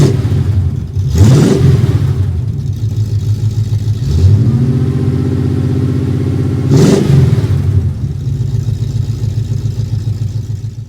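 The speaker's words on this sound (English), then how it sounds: "let's go kick this down a little bit so you can hear the full idle" A classic Porsche 911 engine idles with a steady, throbbing burble, rising into three quick revs that swell and fall back to idle, close and loud with no talking.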